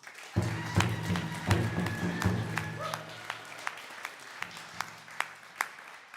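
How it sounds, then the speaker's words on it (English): A crowd at a Native graduation honoring ceremony applauds, scattered claps over a low hum, thinning to a few distinct claps, with a voice murmuring briefly underneath. "A round of applause there too"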